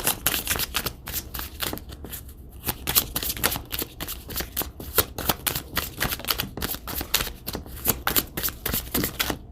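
Tarot cards are shuffled over and over, a rapid riffling flutter close by that goes on without a break with no talk.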